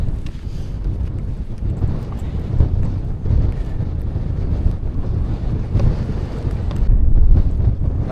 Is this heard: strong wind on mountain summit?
yes